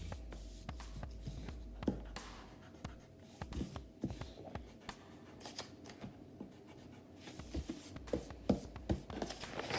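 Excess pencil lines get erased from paper with a close, busy scrubbing of eraser against the sheet. Short strokes come in quick irregular bursts, and there is no talking.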